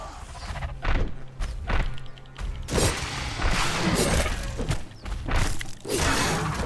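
Knife slicing attack in the video game Conan Exiles, with a kneeling-down slicing motion: a loud run of dull thuds, swishes and clattering impacts in quick succession, with no talk.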